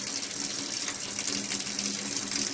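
Tap water runs steadily into a sink while an endoscope's channels are flushed, a constant moderate splashing gush with no talking.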